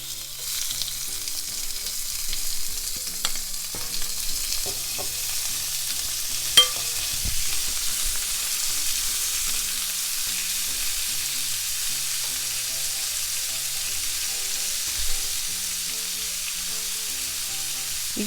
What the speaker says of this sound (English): I'll spread into the pan and add my shrimp.